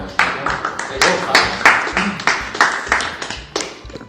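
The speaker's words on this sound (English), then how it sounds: "So a round of applause for Curry A." A small group claps for a curry-tasting winner, a loose run of distinct, fairly close hand claps with uneven rhythm throughout, while a voice carries on underneath.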